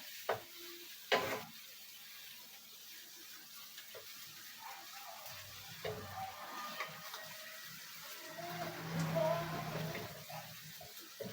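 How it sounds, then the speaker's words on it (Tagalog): Chicken adobo being stirred in a pan, with soft scraping and low sizzling scattered across the clip and a few louder clinks near the start, heard close up with no talking. "Haluin lang natin."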